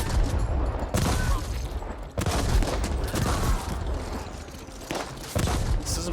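Repeated blasts from a riot gun in the sci-fi shooter game Ascent, heard as loud close shots in an uneven rhythm of about five or six over a few seconds, under a steady layer of game noise.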